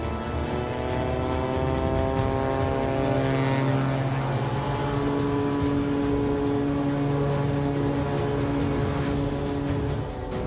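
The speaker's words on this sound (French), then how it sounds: "Décoller depuis un glacier nécessite toute l'habileté d'un pilote chevronné." A small propeller plane takes off from an Alaskan glacier, its steady engine drone loud and close throughout, with a rising and shifting harmonic whine as the power comes up.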